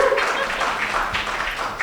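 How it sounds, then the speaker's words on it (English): Applause from a conference audience at a health care event, a steady broadband patter of many hands clapping close by for about two seconds with no talk over it. "So please give Caitlin a round of applause."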